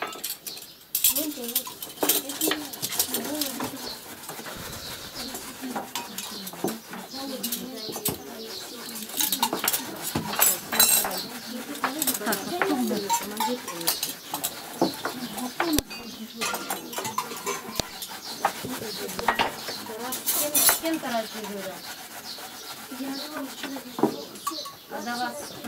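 Spoons and cutlery clink against dishes in repeated sharp taps while people talk over a busy meal.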